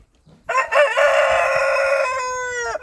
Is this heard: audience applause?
no